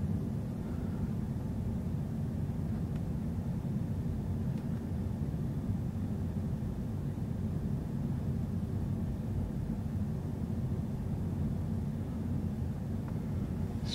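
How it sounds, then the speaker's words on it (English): A seaplane passes over the Elliott Bay harbor waterfront, heard as a steady, distant low rumble blended with broad ambient noise for the whole stretch, with no voices. "We got a seaplane going across here too."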